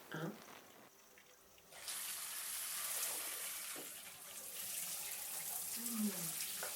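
Tap water runs steadily onto hair during a shampoo rinse at a hairdresser's basin, a continuous close hiss with a few brief splashes; someone talks softly over it at the start.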